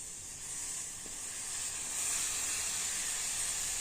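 Water coming to a boil in a pot for Assamese rice flour pitha, a steady high hiss and faint simmer that grows slightly louder, close by with no talk.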